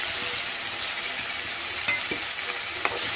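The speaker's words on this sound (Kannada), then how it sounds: "ಈರುಳ್ಳಿ ಚೆನ್ನಾಗಿ ಫ್ರೈ ಮಾಡ್ಕೋಬೇಕು." Onions and tomatoes frying in a pan for Andhra-style egg fry, a steady close sizzle with a few sharp clicks and scrapes of stirring, and no talking.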